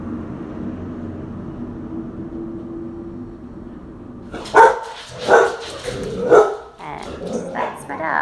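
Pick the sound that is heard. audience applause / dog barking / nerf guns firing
dog barking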